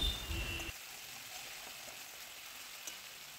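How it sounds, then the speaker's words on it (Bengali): Tomatoes frying in oil with ginger-chili paste and Kashmiri chili powder for a sor puti fish dish: a brief louder stirring burst at the start, then a steady soft sizzling hiss. "টমেটোটা আমি ভালোভাবে ভেজে নিচ্ছি যাতে টমেটোটা একদম গলে যায়"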